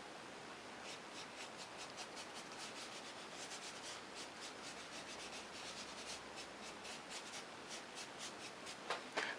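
Soft pastel is rubbed and pushed around on sandpaper, a quiet close scratchy rasp in quick repeated strokes that runs steadily throughout.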